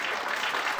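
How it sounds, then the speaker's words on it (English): Steady video game applause fills the short moment, a crowd clapping continuously at moderate volume with no voices standing out. "I was met by gasps of surprise and applause from the other people around us."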